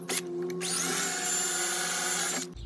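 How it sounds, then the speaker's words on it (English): A power drill bores a pilot hole into the wood frame of a screen porch, one steady loud whine rising as the bit spins up and then cutting off sharply after about two seconds. "First we pre-drill the hole"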